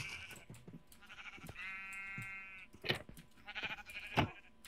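Sheep in the Minecraft video game bleat in a clear, wavering cry near the middle, amid other game noises and some sharp bursts, with no voices heard.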